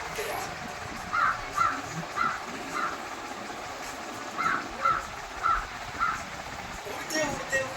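A crow caws repeatedly in short, evenly spaced bursts, a first group followed by a second after a pause, moderately near, with faint background noise and no talk.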